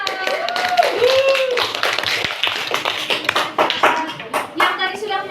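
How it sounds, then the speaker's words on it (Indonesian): A class of students claps for a classmate in a classroom, a burst of close, uneven hand claps mixed with children's voices and chatter. "Oke, tepuk tangan buat Raisa."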